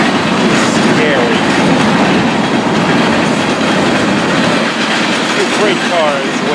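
A loud tank train rolls steadily past nearby, wheels clattering over the rails in a continuous rumbling roar.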